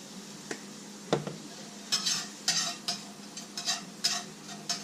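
Vegetables are sautéed with garlic powder in a pan on a Weber grill, with soft sizzling under a series of sharp scraping stirs and a few utensil clinks against the pan, with no talking.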